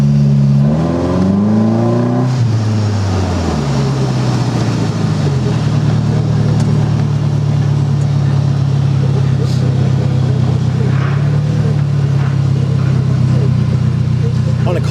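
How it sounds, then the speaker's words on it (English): A small 4-cylinder engine with cherry bomb mufflers revs up in rising and falling sweeps, then settles into a loud, steady throaty drone close by. "With that little 4-cylinder, this thing will get up and go pretty good. Sounds good with those cherry bomb mufflers."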